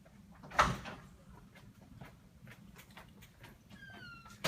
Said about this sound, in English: let me close this other door